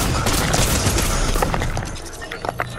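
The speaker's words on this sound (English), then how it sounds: "finished him off with the shotgun!" Shotgun fire in a multiplayer video game, a rapid cluster of loud, close blasts and booms in the first half, then sparser impacts trailing off, with faint voices in the background.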